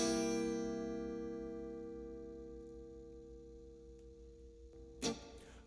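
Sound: guitar C seventh chord

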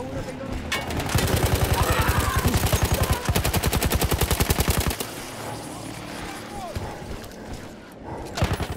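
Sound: machine gun fire in video game Battlefield 1

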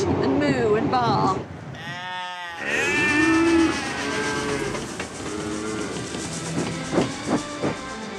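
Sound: people imitating sheep bleating and cattle mooing

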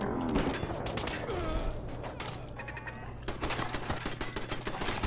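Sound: turret gunfire in the video game Horizon

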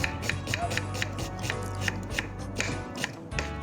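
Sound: chopping onions with a knife

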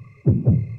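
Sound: heartbeat sound from the video game Yomawari: Midnight Shadows

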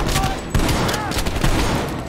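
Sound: shotgun fire in video game Call of Duty Black Ops Cold War

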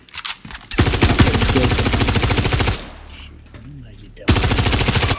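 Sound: SMG gunfire in video game Star Citizen

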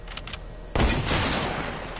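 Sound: sniper rifle gunfire in a video game

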